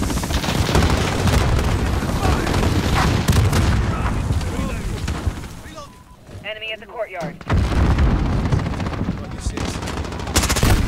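A Holger light machine gun fired in a first-person shooter match set in a smoke-filled shoot house, dense sustained bursts of loud automatic fire with booms, a brief lull mid-way, then heavy firing again.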